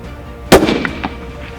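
A hunting rifle shot at a wildebeest on an African safari, one sharp loud crack with a short echoing tail rolling away across open ground.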